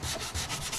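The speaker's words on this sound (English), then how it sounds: "just start sanding away and getting the whole surface scuffed up" A sanding block scuffs the surface of a 3D printed mold for a carbon fiber heatshield, making close, rhythmic back-and-forth rasping strokes in quick succession.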